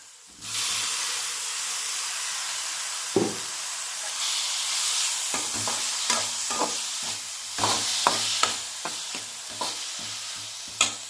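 Onions and boiled snake gourd sizzle steadily in a hot pan, with repeated scraping and clinking of a spoon stirring through the mixture over the continuous frying hiss.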